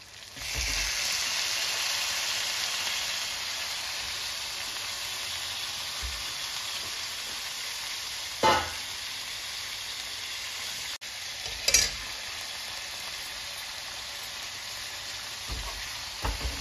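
Half a kilo of chicken for a green hariyali chicken dish fries with a loud, constant sizzle, mixed in the pan with a few isolated clinks and scrapes of the spoon.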